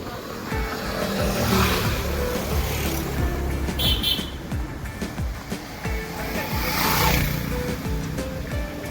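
A motorbike rides along a road heading back toward Nainital town, its engine droning steadily under heavy wind rush, swelling twice as it accelerates.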